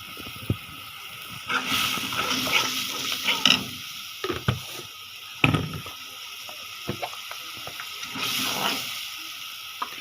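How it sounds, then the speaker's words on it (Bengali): Ground chili and turmeric powder frying and being stirred in a pan while chicken liver and gizzard bhuna is cooked, a steady sizzle broken by scraping stir strokes and utensil clicks, close and without talk. "মশলা গুঁড়ি দিচ্ছি এটা কষে নিই"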